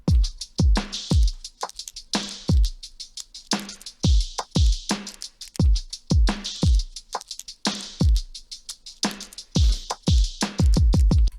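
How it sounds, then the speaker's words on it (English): A lo-fi pop song's drum groove plays on its own, booming kicks under crisp snares and hi-hats in a steady, laid-back repeating pattern. "Alright, and the whole drums together sound like this."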